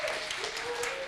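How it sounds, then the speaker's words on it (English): An indoor audience at a student union presidential election Q&A claps steadily for about a second, a dense, moderately loud patter of hands. "Big round of applause."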